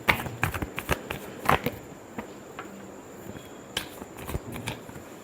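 Tarot cards being shuffled up close in soft, uneven riffling bursts and light taps, fairly quiet, with no talking.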